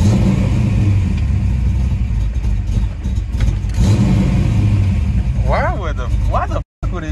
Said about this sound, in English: but look, it revs up